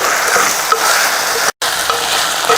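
Raw banana pieces stirred and fried in a pan: loud, steady sizzling with continuous scraping of the spoon against the pan, broken by one brief cut-out, no voices.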